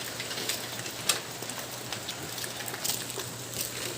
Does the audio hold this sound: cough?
no